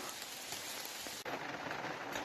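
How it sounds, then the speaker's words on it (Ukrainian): Heavy rain pours steadily onto a forest, a dense, close hiss of drops on leaves and ground with no voices, briefly dipping and then continuing just as strong. "пішов сильний дощ і я тікаю з лісу"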